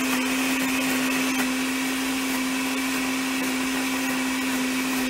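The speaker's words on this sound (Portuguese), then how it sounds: "A gente vai bater no liquidificador agora com o suco de um limão." A blender whirs steadily and loudly throughout, blending very ripe sapodilla fruit with lemon juice, a constant motor drone with a strong hum and no pauses or voices.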